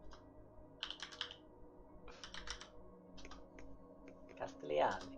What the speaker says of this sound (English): Oh, you're typing it.